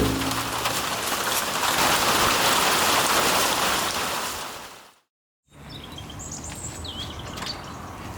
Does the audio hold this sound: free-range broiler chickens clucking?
no